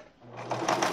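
A sewing machine fitted with a presser foot stitches a fabric cover for a foam cushion, a close mechanical whir that starts up and speeds into a rapid, steady rattle.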